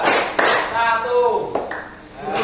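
Group of students clapping on counted cues during a class game, a few sharp claps standing out over steady speech-like chatter and voices.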